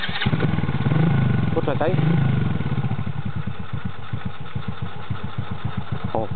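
A 110cc quad bike engine sputters and catches, then settles into a steady, rhythmic idle that chugs on close by, while people talk in Polish over it.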